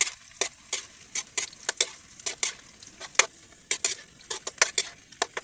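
Chopped onion sautéed in a pan for a ginisang upo (bottle gourd) dish, with a quick run of sharp spatula scrapes and taps against the pan over a faint, steady sizzle, close by and without voices.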